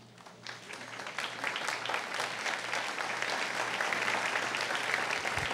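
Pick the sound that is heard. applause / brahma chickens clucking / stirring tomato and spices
applause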